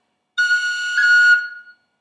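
A single high F on tin whistle plays alone and close, briefly lifted by one quick pip ornament near the middle, then tails off.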